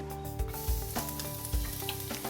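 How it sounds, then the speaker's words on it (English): Garlic hits hot oil in a large Dutch oven pot, giving a steady bright sizzle with a few soft knocks of stirring, close and clear with no voices. "Love to hear that sizzle when you first put the garlic in the pan."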